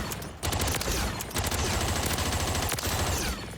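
An MTZ assault rifle with a 50-round drum magazine fires in the Modern Warfare 3 video game. Long, rapid automatic bursts sound loud and close, broken by brief pauses.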